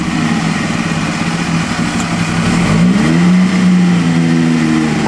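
A Bentley at the 2010 Concorso Villa d'Este car show revs its engine. A steady, loud low rumble swells midway into a rising rev and holds there, with no voices over it.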